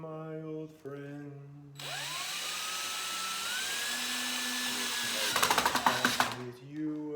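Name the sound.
DeWalt drill with hole saw bit drilling holes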